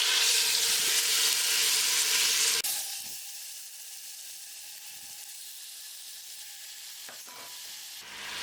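Chicken dropped into about three tablespoons of hot oil in a pressure cooker for an onion-free chicken curry: a loud, bright burst of sizzling that drops after a few seconds to a steadier, softer hiss with occasional stirring knocks.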